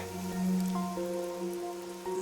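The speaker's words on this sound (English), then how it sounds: "The rain, it never stops." Steady rain patters in the Master Detective Rain Code video game, a soft continuous wash with faint tonal music underneath, no voices.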